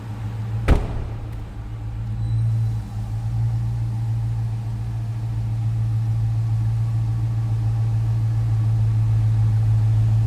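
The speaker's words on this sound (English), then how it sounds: "Sounds good at idle. Nice deep throaty exhaust note." 2014 Dodge Challenger R/T 100th Anniversary Edition idling with a deep, throaty exhaust note, a steady low rumble held close by for ten seconds after a sharp click near the start.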